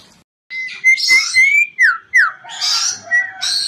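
A white starling (jalak putih), an East Javan cage bird, sings a run of clear whistled notes: sliding tones, quick chirps and rising calls. Each phrase stands alone, with short pauses between them.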